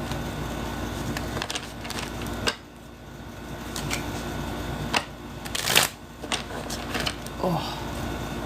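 A deck of cards shuffled by hand indoors, repeated riffles and clacks spread across the moment, close by, with a person talking at times.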